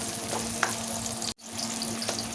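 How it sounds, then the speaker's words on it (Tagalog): Carrots frying in a pan, a continuous close, moderately quiet sizzle broken by a brief gap, with no talking. "Fry fry lang muna natin yan, ha?"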